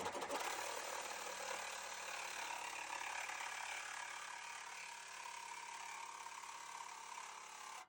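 A power cutting tool, likely a saw or grinder, slices through a section of a truck bumper during a stubby bumper install, giving a loud, continuous, harsh mechanical whine and rasp close by with no talking.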